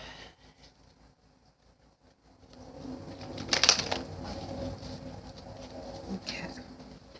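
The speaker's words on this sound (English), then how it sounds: "Alright, a few more shuffles." A deck of tarot cards shuffled by hand, close by: a quiet lead-in gives way to soft, papery riffling and patter with one sharper burst of card noise partway through, with no voices.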